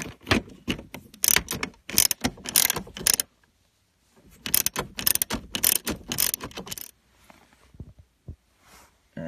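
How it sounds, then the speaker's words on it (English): A ratchet with a 10mm deep-well socket and extension clicks rapidly in two bursts of tightening on the parking brake adjustment nut of a 2005 Nissan Altima, the close, sharp ratcheting separated by a pause and followed by a few faint taps. "take a 10mm deep well socket with an extension and put a little tension"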